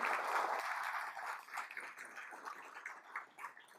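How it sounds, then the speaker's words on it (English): A crowd at a regional State of the Region event applauds, a dense patter of many hands clapping that swells briefly and then tapers off across the room. "So a round of applause, please, for Astea and Kristen."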